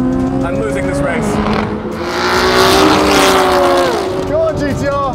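A Corvette Z06 C8 drag races a Nissan GT-R NISMO and a 1000hp R34 GTR, engines revving and shifting in rising and falling whines, loud and close, with voices talking over the run.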